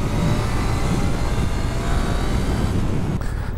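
A Suzuki GSX-8S motorcycle's engine drones steadily while riding, a loud, even rumble blended with rushing wind noise close to the rider.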